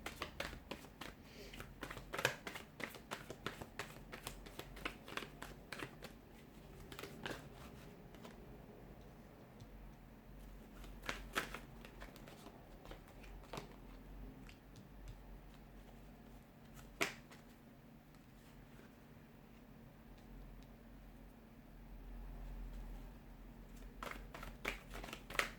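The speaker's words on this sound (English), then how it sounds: "let's go ahead, give the cards a shuffle" A tarot deck is shuffled at close range, giving soft, scattered taps and card flicks over a long stretch with low room noise underneath.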